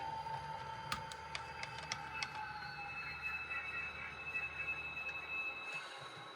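Model train on a layout moving and dropping off a boxcar: a faint, steady rolling rumble of small wheels on track with a few sharp clicks early on and a thin, sustained metallic squeal.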